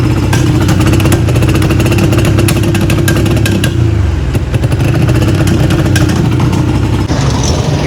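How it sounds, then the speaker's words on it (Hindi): A Honda 125 motorcycle running loudly and roughly after being washed, its engine sputtering and misfiring unevenly throughout, with ragged irregular firing. "पता नहीं यार ये बाइक को क्या हो गया, अजीब आवाज़ें दे रही, एक्सीलेटर नहीं ले रही धुलने के बाद।"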